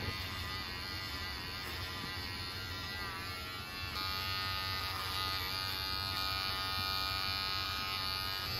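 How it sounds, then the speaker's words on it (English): A Wahl electric hair clipper with no guard buzzes steadily while cutting hair, using a clipper-over-finger technique on a mullet haircut at home; the close, continuous whine shifts slightly in tone as it moves through the hair. "we're going to use just the clipper with no guard for a clipper over finger technique"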